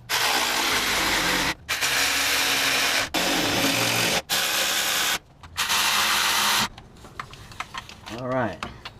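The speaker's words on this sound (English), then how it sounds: "electric drill." An electric drill runs loud and close on Honda Accord transmission bolts, in several long bursts broken by brief pauses, then stops as lighter clicks and handling noises follow.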